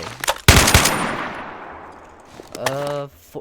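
RPK machine gun firing in a Minecraft gun mod game, a short loud burst of rapid shots followed by a long echoing decay, then a brief mechanical reload clatter near the end.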